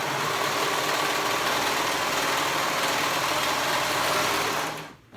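A sewing machine stitching swimsuit fabric runs in one continuous, close, buzzing whir for about five seconds before stopping abruptly.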